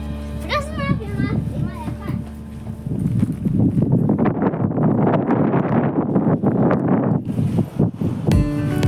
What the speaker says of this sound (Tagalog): Malakas ang hangin dito guys sa bundok.